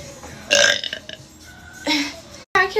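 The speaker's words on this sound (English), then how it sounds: "I'll drink some beer. That makes me burp a lot." Someone burps loudly and repeatedly after drinking beer, with two or three throaty, drawn-out belches close to the mic separated by short quiet gaps.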